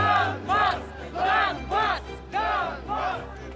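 Angry crowd shouting in rhythmic chanted bursts as it marches to storm administrative buildings in Ukraine, roughly six loud waves of massed voices over a low steady rumble.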